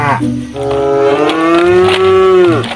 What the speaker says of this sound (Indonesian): suara sapinya wah lihat ini dia teman-teman ini si sapi warna merah putih